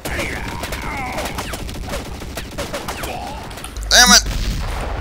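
Gunfire in a Forgotten Hope battle during the Siege of Kut al Amara, a WWI campaign map: a sustained crackle of distant shots under game noise, then one loud nearby blast near the end.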